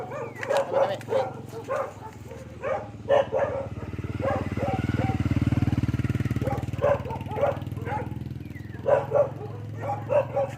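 Dogs bark repeatedly at a moderate distance outdoors, in short spaced bursts over a low engine-like rumble that swells in the middle, with occasional yips.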